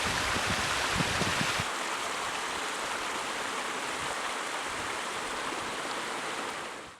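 The River Dodder flows in a steady, broad rush of moving water, loud and continuous throughout, with no voices over it.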